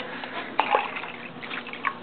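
Salt water stirred and mixed in a container, with small wet sloshes, drips and bubbling trickles close by, a couple of slightly sharper splashes standing out over the steady liquid movement.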